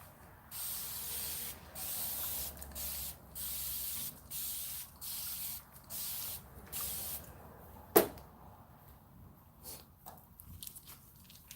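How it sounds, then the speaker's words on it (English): Water from a spray bottle misted onto braided hair, about nine quick hissing bursts in a steady rhythm, close and fairly quiet, followed by a sharp click and soft handling noise. "spray some water on it."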